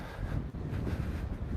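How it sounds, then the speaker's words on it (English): Gusty wind buffeting an outdoor microphone on a chilly day, a steady low roar with brief dips, no voices. "I think it's a little bit more windy"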